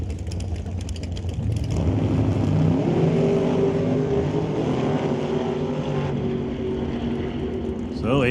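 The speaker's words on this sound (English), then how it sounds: "So Aiden on and off the gas a couple of times." A Mustang drag car at Mission Raceway Park revs as the driver goes on and off the throttle, a loud rising and falling engine roar with a rough, uneven run under continuous commentary.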